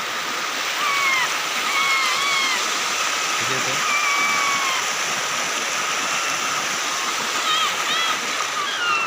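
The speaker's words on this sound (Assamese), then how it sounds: "নদীত পানী আহি আছে।" A swollen river rushes steadily through the hills in a continuous broad wash of water, with thin bird whistles above it and a brief voice speaking partway through.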